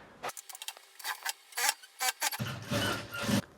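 A sewing machine stitches the side seam of an off-shoulder blouse in short, close runs of rapid mechanical whirring, stopping and restarting, ending in a longer continuous burst.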